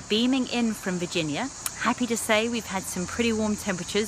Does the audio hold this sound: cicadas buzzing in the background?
yes